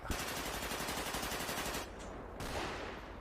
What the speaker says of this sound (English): Heard a lot of automatic gunfire.